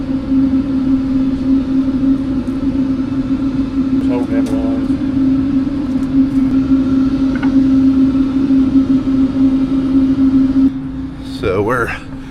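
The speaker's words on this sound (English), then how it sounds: "we are going to cycle our cylinders a few times before we hook them up to get the air out of the system" Hydraulic machinery runs steadily while cylinders on a drained ripper implement are cycled a few times to purge air, giving a loud continuous hum with a strong low drone and brief higher whines and squeals near the end.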